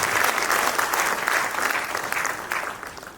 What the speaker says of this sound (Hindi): एक बार जोरदार ताली बजाइए वापस खर्रा साहब के लिए।